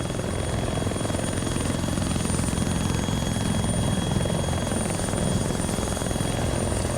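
Mohawk helicopter in Arma 3 Apex on the Tanoa map, a steady dense rotor and turbine drone running unbroken and fairly loud throughout, with no voices over it.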